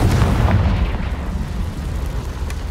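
A Confringo fire spell bursts in Hogwarts Legacy, a loud, dense low rumbling explosion with a heavy opening blast that rolls on steadily for a few seconds without fading.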